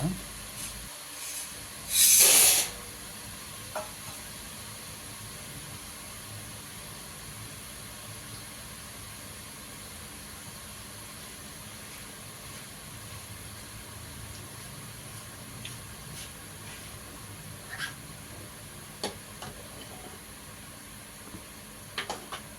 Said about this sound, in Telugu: చూడండి ఈ విధంగా ఫ్రై అవ్వాలండి